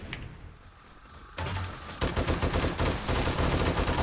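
Automated turrets open fire on a horde of zombies in the survival game 7 Days to Die, starting quietly and building into loud, rapid, continuous bursts of gunfire that keep going to the end.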